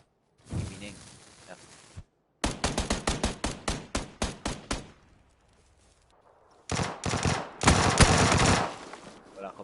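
Shotgun and M16 fire in PUBG: a sharp blast, then a rapid string of about a dozen loud, evenly spaced rifle shots, a short pause, and a final dense burst of gunfire.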